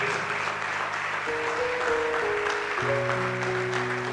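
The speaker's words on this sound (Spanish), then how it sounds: "Dale un aplauso al Señor" Church congregation applauding, a steady rush of clapping mixed with sustained organ or keyboard chords that shift pitch, moderately loud and even throughout.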